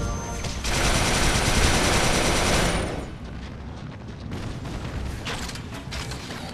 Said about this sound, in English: What was shooting at me?